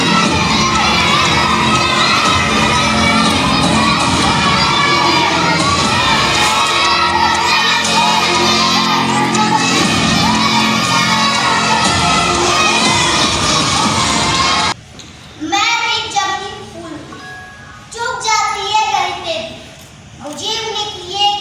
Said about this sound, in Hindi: जोरदार तालियों के साथ इस नाटक का हम लोग शुरुआत करते हैं